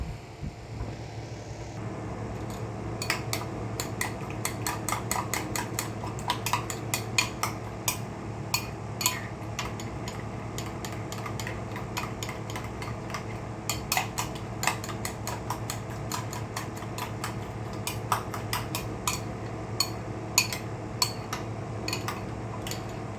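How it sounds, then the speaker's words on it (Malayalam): Green chilli, ginger and onion being chopped on a board for a two-egg omelette, with a steady run of sharp knife taps over a continuous low kitchen hum. "ഈ പച്ചമുളക് ഇഞ്ചി സവോളയും കൂടെ കട്ട് ചെയ്തു രണ്ട് മുട്ട ഓംലെറ്റ് ആക്കാനാണ്"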